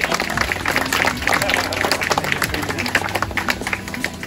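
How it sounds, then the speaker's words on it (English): Audience on a guided walking tour in medieval Tallinn claps for a lady, a dense, steady round of applause throughout with some crowd murmur mixed in. "Big round of applause for the lady."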